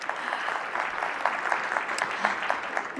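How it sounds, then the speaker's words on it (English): Audience applause at a conference session, a steady wash of many hands clapping throughout, moderately loud and continuous with no voices over it. "So big round of applause to all of them."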